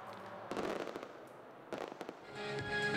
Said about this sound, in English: And fireworks to congratulate them are well in order.